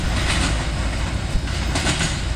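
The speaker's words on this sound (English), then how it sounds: "And that was CSX loaded military train" A loaded CSX military freight train passes at Catawba, South Carolina, with an ES44AH locomotive leading, giving a steady loud rumble with rhythmic clickety-clack of wheels over rail joints, close and continuous with no voices.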